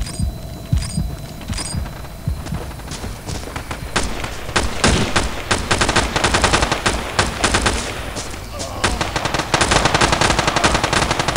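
Rapid automatic fire from a SCAR rifle in the video game Battlefield 2 Special Forces, with loud sustained bursts that grow denser after the first few seconds, mixed with other battlefield gunfire.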